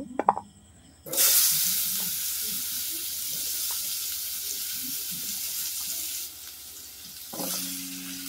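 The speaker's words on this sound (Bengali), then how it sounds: "এবারে বন্ধুরা আমি লাউটাকে তুলে দেবো," Chopped bottle gourd hits hot oil with a sudden loud sizzle after a clatter, then fries in a steady hiss with stirring, easing briefly before swelling again, for a khichuri of rice and lentils.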